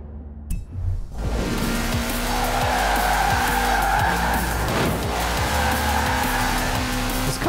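A car in Forza Horizon 4 accelerates with a loud, droning engine and long squealing tire skids, the engine note rising and falling across several slides, close and with no talking.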